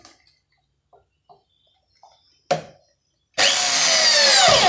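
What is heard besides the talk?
making a hole in the bottom of a PVC pipe water filter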